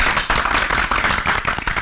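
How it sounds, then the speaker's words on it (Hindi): Clapping and applause from an audience at a party celebration in a film scene, a dense, continuous patter of many hands, loud and close, with no talk over it. "तालियां।"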